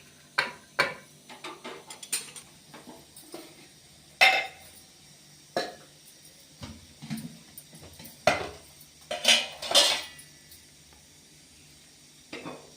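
Cooked bottle gourd and chana dal are spooned into a metal bowl: scattered clinks and scrapes of metal, some sharp and bright, arriving irregularly over quiet pauses.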